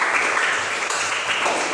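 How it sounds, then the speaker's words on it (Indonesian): Participants in a teacher training session applauding together, a brief, even burst of many hands clapping at moderate loudness. "tepuk tangan buat itu."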